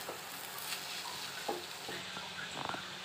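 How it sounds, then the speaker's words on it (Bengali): Mango pickle with turmeric and salt being stirred in a pan, a faint continuous sizzle with a few soft scrapes and clicks of the spoon, no voices. "হলুদ দিলাম আর পরিমাণ মতো নুন দেবো। আবার নাড়াচাড়া করব।"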